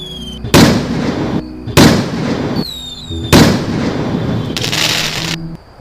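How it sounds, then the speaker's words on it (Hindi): Diwali firecrackers go off in a cartoon sound effect: four loud, sharp bursts with short rising whistles and crackle between them, and no talk. "हर तरफ पटाखे के ही शोर सुनाई दे रहे हैं।"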